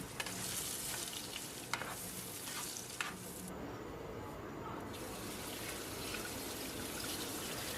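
Oil sizzles steadily in a pan as something fries close by, a continuous crackling hiss broken by a couple of light clinks.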